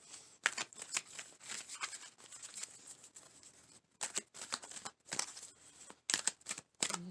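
Tarot cards are shuffled in quick riffling bursts, crisp and close, with short pauses between shuffles and no talking.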